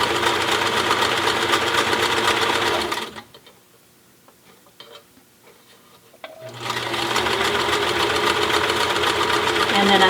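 A sewing machine stitches a cloth face mask in loud, steady bursts, pausing for a few seconds of quiet handling before running again at full speed.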